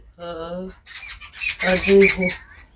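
A peacock gives one loud, harmonic squawk near the start. Scattered bird chatter and movement follow in an outdoor rural setting.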